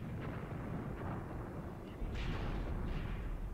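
Artillery fire in the war game Graviteam Tactics: a steady low rumble of distant barrage with a couple of duller bursts landing midway, continuous and without voices.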